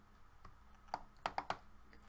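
Quiet keystrokes on a computer keyboard while setting up 3D printer firmware, a few scattered taps followed by a quick cluster of three sharper clicks, close and faint over low room hiss.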